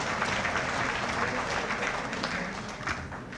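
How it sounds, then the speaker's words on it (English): An audience at a New Year's gala applauds in a full, steady round of dense clapping that stays strong throughout and tapers slightly at the end. "So let's give them too a special round of applause."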